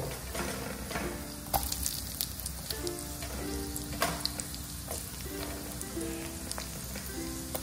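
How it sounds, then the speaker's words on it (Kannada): Garlic frying in rendered pork fat in a pan for a Mangalorean pork roast, a steady dense sizzle and crackle running throughout with occasional stirring scrapes, close and fairly loud. "ಅದೇ ಎಣ್ಣೆಯಲ್ಲಿ ನಾನು ಇವಾಗ ಬೆಳ್ಳುಳ್ಳಿಯನ್ನು ನಾನು ಸ್ವಲ್ಪ ಬೆಳ್ಳುಳ್ಳಿ ಹಾಕ್ತಾ ಇದ್ದೇನೆ"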